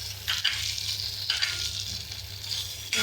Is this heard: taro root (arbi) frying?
yes